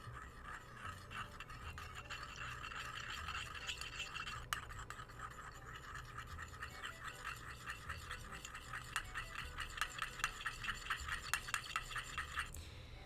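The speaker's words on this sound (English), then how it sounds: "we're mixing this into a little slurry" Matcha powder being mixed into a slurry with a makeshift utensil instead of a bamboo whisk, a steady quiet rapid scraping and rasping that keeps a fast rhythm for several seconds, close and alone.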